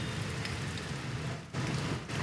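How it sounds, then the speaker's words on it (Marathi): Heavy rain pours steadily over Dhule city, a dense, even hiss of downpour on surfaces that goes on without a break. "धुळे शहरामध्ये मागील 2 दिवसांपासून मुसळधार पाऊस सुरू आहे"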